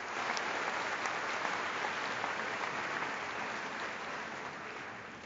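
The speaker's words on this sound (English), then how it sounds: "Give you all a wonderful sense of applause." Commencement audience applauding at a university undergraduate ceremony, a dense, steady wash of many hands clapping close and loud throughout, tapering only slightly toward the end.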